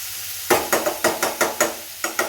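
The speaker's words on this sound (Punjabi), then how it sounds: "ਹੁਣ ਇਹਨੂੰ ਚੰਗੀ ਤਰ੍ਹਾਂ ਬਸ ਐਸੇ ਪਿਆਜ਼ ਦੇ ਵਿੱਚ ਲਸਣ ਦੇ ਵਿੱਚ ਹਰੀਆਂ ਮਿਰਚਾਂ ਦੇ ਵਿੱਚ ਦੋ ਤਿੰਨ ਮਿੰਟ ਪਕਾਵਾਂਗੇ" Onion, garlic and green chillies cooking in a pan with a spoon stirring them, giving about eight sharp scraping strokes in a fairly steady rhythm over a soft sizzle, close and clear with no talking.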